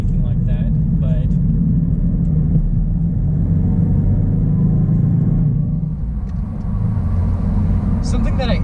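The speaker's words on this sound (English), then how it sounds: "something that I love those turbo noises that the Subarus make" Inside a 2019 Subaru WRX turbo as it accelerates onto an interstate, the engine gives a steady low, loud drone while someone talks over it throughout.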